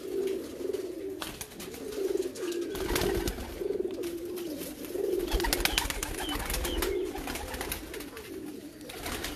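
Breeder pigeons in Sialkot coo in repeated, throaty rolling phrases that carry on without a break, close by, with occasional rustles and wing or cage noises mixed in.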